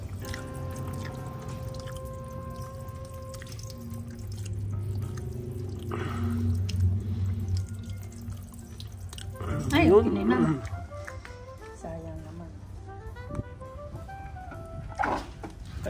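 Water drains and drips off freshly made kimchi, soft squishy trickles and a brief splash under steady conversation nearby.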